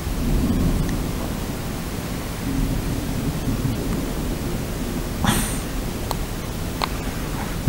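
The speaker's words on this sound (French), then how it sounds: "Le fait qu'on entende bien de l'intérieur l'orage, ça signifie qu'il doit être quand même assez fort dehors" A strong summer thunderstorm over Aurillac heard from inside a building: a low, steady rumble of thunder rolls on with a dull, continuous roar, with a few faint sharp knocks near the end.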